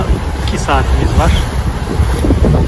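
Sailboat motoring through a choppy sea near Rhodes, with steady wind rush and water slapping against the hull, as a voice speaks over the continuous noise.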